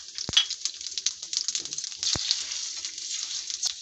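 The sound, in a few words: spices and lentils sizzling in oil for tempering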